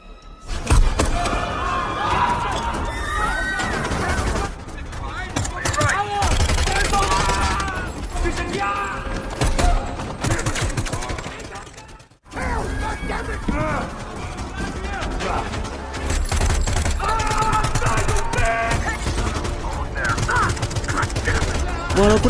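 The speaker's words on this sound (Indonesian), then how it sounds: "Alhasil baku tembak pun terjadi dengan sangat sengit." An intense gunfight with sustained machine gun fire and dense overlapping shots and thuds. It runs loud and steady, breaks briefly halfway, then resumes, with voices talking over parts of it.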